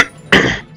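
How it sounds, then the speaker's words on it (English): A single short, sharp throat clearing from a man playing Super Mario Galaxy, a brief close burst after a moment of near quiet. "clear my throat."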